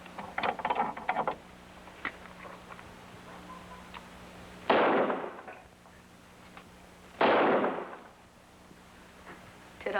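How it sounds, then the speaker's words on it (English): Two sharp, heavy gunshots ring out a couple of seconds apart in a western radio drama, each bursting loud and trailing off briefly against a quiet background. "Did I hear a shot?"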